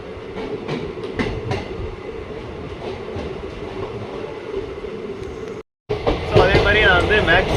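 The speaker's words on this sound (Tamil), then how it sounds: "ஸோ இப்போ நம்ம ட்ரெயின் வந்து கிளம்புறதுக்கான நேரம் வந்து வந்துட்டு ஸோ ஏறிடலாம்." The Ananthapuri Superfast Express rumbling along the rails, a loud continuous rolling noise with wheel clatter, a brief cut to silence, then a louder stretch with squealing tones and voices talking over it.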